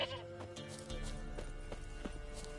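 A stubborn goat bleats in the fantasy game The Witcher 3, short bleats over hoof clops and a soft ambient game score, fairly quiet throughout.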